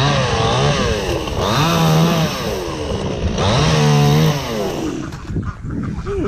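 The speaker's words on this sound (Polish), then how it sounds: "Może być piła, idzie dobrze." A Dedra chainsaw cuts wood on a farmyard in Podlasie, its engine loud and close, revving up and down in two long cutting passes before easing off at the end.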